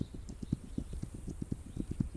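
Rhythmic clip-clop of horse hooves as a rider travels through a Wild West setting in the game This Land Is My Land, an even, quick gait of soft thuds heard up close without speech.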